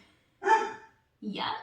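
A dog barks twice in short bursts, close by at home during a yoga session, with a brief pause between them; a person speaks briefly.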